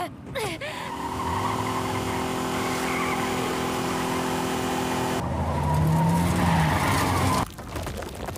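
A car's tires skid and squeal as the vehicle brakes hard to a stop on a road, a loud sustained screech under engine noise, with a sharper squeal near the end before a sudden cutoff.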